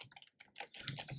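Computer keyboard typing during a software setup: a quick burst of several crisp key clicks over about a second, close and clear with no voices.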